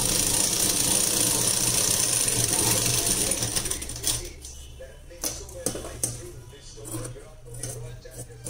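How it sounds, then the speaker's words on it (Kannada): A sewing machine stitches a lined blouse, running in a loud, steady mechanical whirr for about four seconds before stopping, followed by quieter clicks and handling noises. "ಈಗ ನೋಡಿ ಸ್ಟಿಚಿಂಗ್ ಆಯಿತು ಒಂದು ಸೈಡ್ಗೆ ಸ್ಟಿಚಿಂಗ್ ಆಯಿತು"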